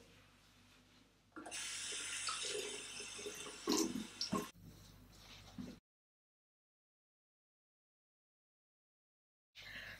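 Running water splashes steadily from a sink tap as a face is rinsed during a skincare routine for acne-prone combination skin, with louder splashes midway, then a long silence before the flow briefly returns.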